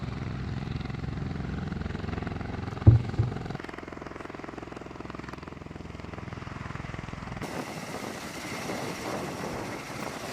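An Osprey military aircraft drones with a low, rumbling rotor and engine hum during US Marines combat training with Philippine Marines, steady and moderately distant, with a brief thump partway through.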